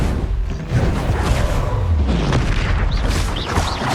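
Bombarda blasting spells explode in Hogwarts Legacy, a dense, continuous roar of heavy booms and rumbling bursts, loud and close, with whooshing debris layered on top.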